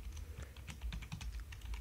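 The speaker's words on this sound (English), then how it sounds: "we add myText to the stage by typing add child myText" Code being typed on a computer keyboard: a quick, uneven run of soft, close keystrokes clicking continuously throughout.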